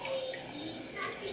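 Dirty, discoloured water runs steadily from a kitchen tap during dishwashing, a constant close hiss of flowing water with no breaks.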